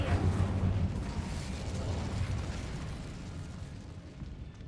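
An Incendio fire spell in Hogwarts Legacy erupts with a loud, roaring blast of flame that slowly decays into a rumbling, crackling fade.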